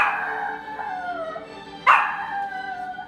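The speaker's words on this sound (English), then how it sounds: "Howling connects back to their wolf roots." A dog howls in long, drawn-out wavering tones, close and fairly loud, with a sharper yelping rise partway through before the howl trails on.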